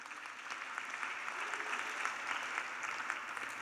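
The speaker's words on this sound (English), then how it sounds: "please give them a round of applause." Audience applause at a 2025 semester-one graduation ceremony: a dense, steady wash of many hands clapping together across the venue, sustained evenly throughout with no voices breaking through.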